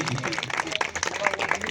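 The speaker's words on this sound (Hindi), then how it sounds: "इसके लिए जोरदार तालियां" Audience applause at a school event marking World No Tobacco Day, a brief burst of clapping with crowd noise and a voice speaking over it.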